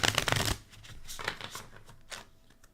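Oracle cards being shuffled up close: a burst of rapid riffling, then softer scattered slides and taps of the deck.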